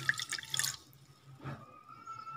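A glass of water poured into a pot of garlic peels, a brief close splash and trickle followed by faint dripping and quiet kitchen hum.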